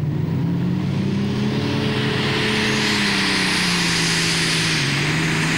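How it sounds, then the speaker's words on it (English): A pulling tractor bought from the United States roars at full power during a tractor pull run at a 1996 European event in Bernay, France, close and very loud with a steady droning, shifting engine tone throughout. "This is the second of Peter Clark's tractors, which he bought from the States about 10 years ago"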